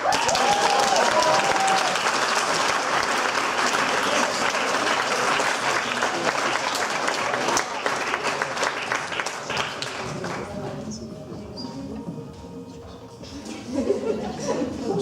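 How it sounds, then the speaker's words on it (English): Audience clapping at a school awards ceremony styled after the Oscars, a loud sustained wash of applause that carries on for most of the stretch, then thins and fades somewhat near the end with faint crowd murmur and laughter. "Keep clapping."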